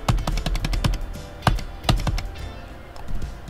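Keys tapped on a computer keyboard, arrow keys pressed to nudge a 3D CAD model, giving a fast irregular run of sharp, close clicks with a few louder strikes and no talk.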